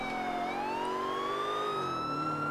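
A police siren from the Grand Theft Auto IV video game wails continuously, its pitch sweeping slowly up and then easing down, loud and close over a steady engine drone.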